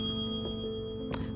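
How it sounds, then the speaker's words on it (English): A bell rung in the video game Strange Antiquities gives one bright, short ding near the end, set over a steady low musical game background. "Ring the bell."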